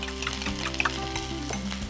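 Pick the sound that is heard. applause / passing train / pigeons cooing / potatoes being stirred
potatoes being stirred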